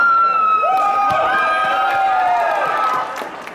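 An audience at a live startup pitch event cheers loudly, with high whoops and shrill calls sliding over a sustained crowd roar that drops off near the end.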